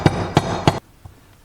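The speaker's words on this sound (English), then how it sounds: "when you give these screwdrivers a little smack here with your hammer" A hammer smacking a screwdriver to loosen screws on a dirt bike engine case, three sharp, loud, evenly spaced blows followed by a faint softer tap.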